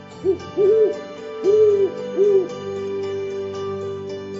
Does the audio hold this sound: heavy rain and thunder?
no